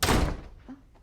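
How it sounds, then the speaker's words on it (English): A door slams shut with a heavy, close thunk that fades into a short decay, followed by a second sharp knock at the very end. "He just slams the fucking door."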